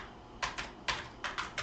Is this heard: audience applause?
no